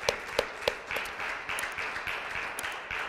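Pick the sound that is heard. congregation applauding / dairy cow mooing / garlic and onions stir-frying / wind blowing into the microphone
congregation applauding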